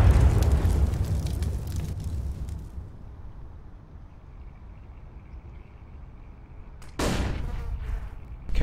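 A grenade goes off in the first-person shooter CS:GO with a loud blast and rumbling decay, followed by a quieter stretch and a second sharp burst near the end.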